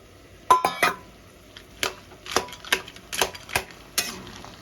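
Fried lentil dumplings (bori) dropped into a pot of cooking bottle gourd, a series of sharp clinks and clatters of utensil against metal pot, close and moderately loud, spaced irregularly with no talking.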